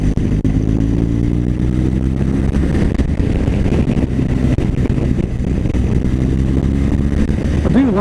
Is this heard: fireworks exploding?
no